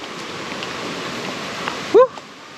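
Rain pours in Bicol as a steady, dense close hiss, broken near the end by one short squeaky sound before the downpour continues.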